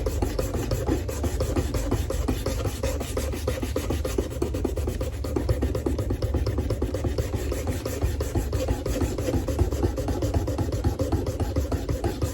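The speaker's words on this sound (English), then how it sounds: "And the next grits get a little easier and a little easier every time I sand." Knife blades being sanded with finer-grit sandpaper give a steady, continuous, close rubbing rasp that runs unbroken throughout.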